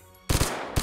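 A quick burst of rapid gunshots from a burst-fire weapon in the VR shooter Hot Dogs, Horseshoes & Hand Grenades, several tightly spaced loud cracks, then another shot starting right at the end.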